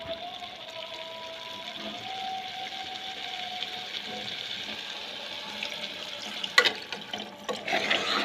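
Steady running water with a hollow, filling quality as water is poured into a pressure cooker for curry, followed by a few clanks near the end.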